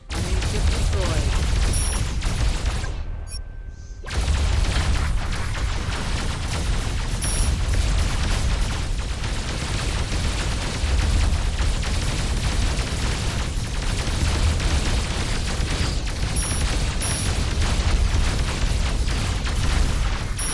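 Enemy ship destroyed in the naval warfare game Dreadnoughts, a sustained heavy barrage of booming explosions and crackling fire under constant loud rumble, briefly cut out near the start, with game voice in places.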